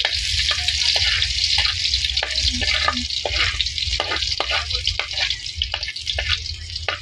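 Garlic frying in a pan for chicken kaldereta gives off a loud, steady, close sizzle, broken by repeated stirring clicks and scrapes throughout.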